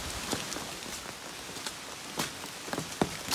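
Rain falls during a southbound Appalachian Trail hike, a steady soft hiss broken by scattered sharper drop hits and light patters, with no talking.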